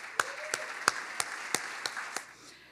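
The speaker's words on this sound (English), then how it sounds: "let's give him a round of applause." A symposium audience gives a few sparse, evenly spaced claps, about eight distinct sharp hits fading out, fairly quiet and distant in a large hall.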